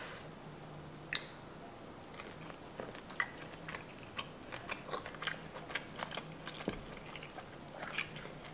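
Soft, close crunching and chewing while eating peeled shrimp from a spicy Cajun seafood boil dipped in lime and pepper, with irregular quiet bites and wet mouth sounds.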